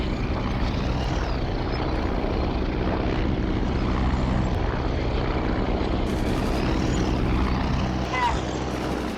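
Enemy propeller aircraft drone overhead in the Steel Fury tank game, a continuous loud engine roar that swells and fades slightly over the scene.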